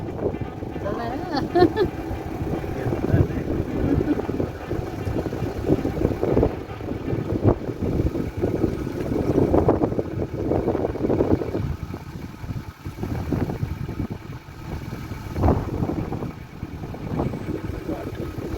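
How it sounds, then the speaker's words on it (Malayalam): Steady evening wind buffets the microphone with a low rumble in a village garden near Bangalore, running throughout under faint background noise. "നല്ല കാറ്റുണ്ട്."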